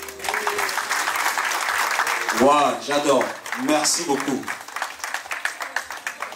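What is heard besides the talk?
audience applause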